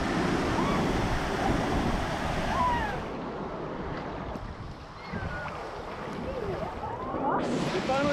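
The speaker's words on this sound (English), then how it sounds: "between 10 and 12, the big waves are on" Big waves churning in a water park wave river, with a broad splashing, rushing wash that dips midway and swells again, faint voices and shouts mixed in.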